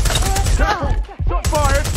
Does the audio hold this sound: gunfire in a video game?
yes